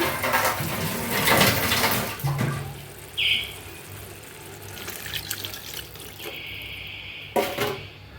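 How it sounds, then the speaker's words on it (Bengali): Water runs and pours into a pan of spiced masala with fried pabda fish, a splashing, gurgling wash loudest at the start, followed by quieter kitchen clatter and brief high chirps. "পানি দেবো"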